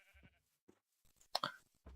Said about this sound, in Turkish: Bu gördüğünüz koyun zaten önceden tanışıyorsunuz.